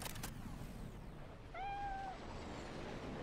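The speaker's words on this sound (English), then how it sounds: "Aw, kitty! I'm gonna pet the kitty." A single clear meow from a cat in the video game Cyberpunk 2077, about half a second long, rising over a steady low game ambience with no talking.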